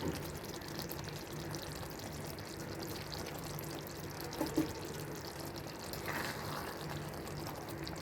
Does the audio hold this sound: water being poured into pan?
yes